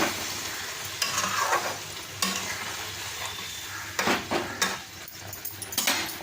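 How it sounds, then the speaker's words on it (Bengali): Hilsa fish curry in mustard paste stirred gently in a pan, with soft scraping strokes and bursts of sizzling that rise and fall in irregular waves. "তো খুব সাবধানে নাড়তে হবে, মানে বেশি জোরে নাড়া যাবে না।"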